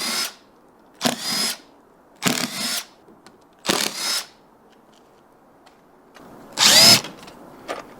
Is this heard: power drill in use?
yes